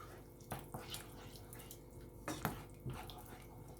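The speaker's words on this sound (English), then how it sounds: "I'm going to stir that." Chickpea curry with coconut milk being stirred in a pot on the stove, giving soft scrapes and a few light clinks of a spoon against the pot, quiet and close with no talking.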